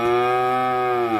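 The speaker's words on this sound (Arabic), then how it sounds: "هسه سمعت صوت الهايشة" A single long cow moo, loud and close, holding one steady drawn-out call for the whole moment with no talking.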